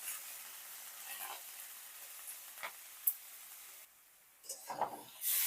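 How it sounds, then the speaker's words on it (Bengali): Small prawns frying in hot oil in a pan without salt or turmeric, a thin crackling sizzle with scattered pops, briefly dropping away before a few louder spatters return near the end. "চিংড়ি মাছগুলো ভেজে নেব।"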